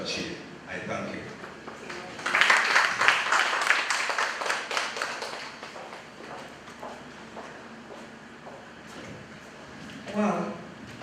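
A symposium audience claps together in a burst of applause that swells, then thins into scattered claps and fades, with a person talking over the tail end.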